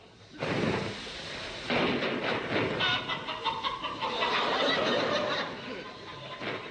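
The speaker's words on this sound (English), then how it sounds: "The sound of chickens has specially been added for people living in rural districts." Chickens cluck and squawk over a rumbling, train-like background noise, fairly faint and continuous.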